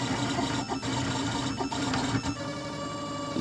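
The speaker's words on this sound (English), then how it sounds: "it's been grinding, making a grinding sound ever since we changed it to -6." A Printrbot Simple Metal 3D printer runs with a steady mechanical whir and buzz, its stepper motors grinding through long lines at close range, with brief dips in the drone and no talking.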